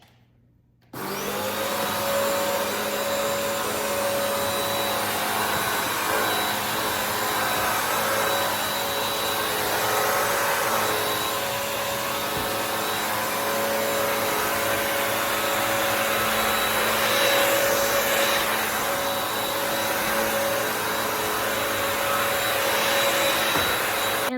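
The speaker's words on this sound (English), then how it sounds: "I'm going to show you how it vacuums up the baking soda." A Bissell Pet Pro All-in-One mop vacuum switches on with a sudden start and then runs continuously at a steady, loud drone with a whining tone, picking up baking soda, with no talk.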